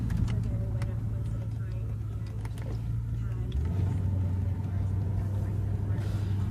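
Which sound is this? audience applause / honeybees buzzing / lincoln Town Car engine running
lincoln Town Car engine running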